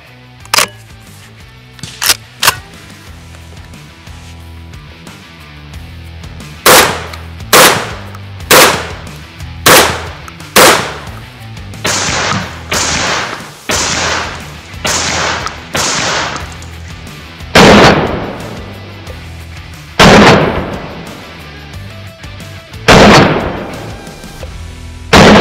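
A Beretta 1301 Tactical shotgun fires heavy solid lead slugs on an outdoor range, a string of loud sharp blasts, some spaced singly and others in quicker bursts, each with a brief ringing tail.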